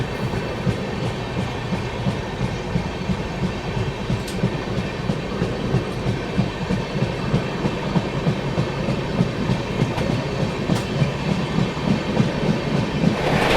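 The 12303 Poorva Express rolls along with a loud, steady rumble and a regular clickety-clack of wheels over rail joints, heard from onboard and continuous throughout without talk.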